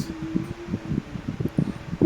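An electric ceiling fan hums steadily with a faint whirring tone, accompanied by irregular rustling and soft thumps nearby.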